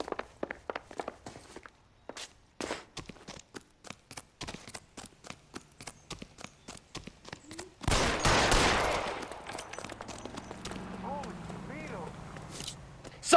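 Gunfire in L.A. Noire: a long string of sharp, evenly spaced shots crackling for several seconds, then a loud burst of noise followed by quieter activity.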